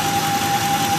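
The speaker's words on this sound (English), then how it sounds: "I'm not sure if you guys can hear this whining sound coming out of the engine." A 2004 Ford F150 Lariat pickup with a troubled engine runs steadily close by, a constant idling drone with a thin, sustained whine riding over it, no voices.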